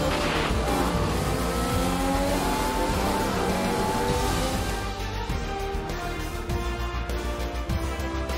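An F1 race car in the F1 2021 video game drives at Paul Ricard, its engine a loud, continuous high-pitched whine that shifts pitch as it revs, with no talk over it.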